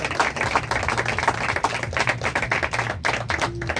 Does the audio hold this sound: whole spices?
no